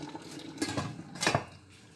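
A pot lid is set down on a simmering pot of egusi soup. Two short metallic clatters ring out close by, about a second apart, over a low kitchen background.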